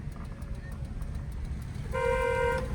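A car horn blares in a steady, sustained honk starting near the end, over a low rumble of engine and road noise.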